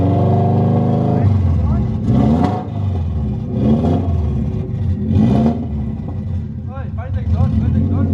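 A Subaru engine, over five years old and running rough, revs up several times in surging bursts, loud and close, with a steady idle rumble between them and voices talking over it.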